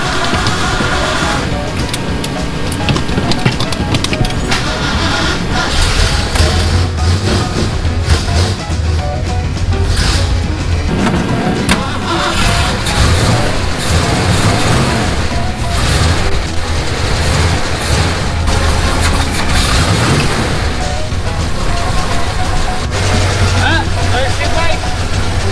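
A 1984 Ford 302 V8 with a newly fitted Holley four-barrel carburetor cranks and runs close by, keeping up a loud, continuous engine rumble throughout while voices talk over it.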